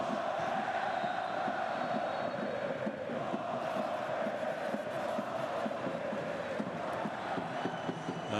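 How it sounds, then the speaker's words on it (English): A basketball arena crowd in Aleppo, Syria, roars and cheers continuously through a FIBA World Cup qualifier between Syria and Bahrain, a dense, sustained wall of noise with no clear breaks. "Crowd is in full flow now in Aleppo."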